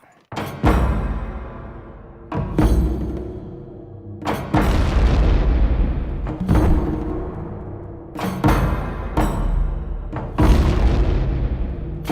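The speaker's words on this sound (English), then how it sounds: "We just hung 1 pound charge right about here, and you can see that it blew the structure away from the point of explosion." A one-pound explosive charge hung on a test structure at a range detonates in a series of heavy booms, roughly six loud blasts over several seconds, each with a rumbling tail and debris noise.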